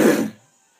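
A single short throat-clearing cough from someone who is sick, sharp and close at first, then quickly dying away into quiet.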